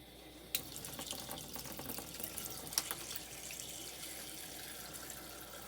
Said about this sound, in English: So I'm going to start putting the water in.